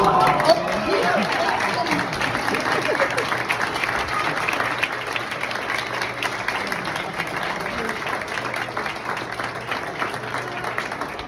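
An audience bursts into warm applause for two departing dancers at a dance event, dense steady clapping that carries on for over ten seconds with a little crowd chatter mixed in.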